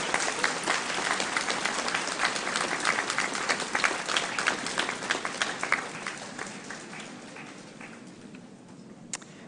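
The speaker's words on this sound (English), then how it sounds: "This would be a good time for you to stand and applaud all those who have supported" A crowded hall at a University of Guelph-Humber convocation for justice studies and psychology graduates breaks into sustained applause, strong at first and thinning gradually toward the end with a few last claps.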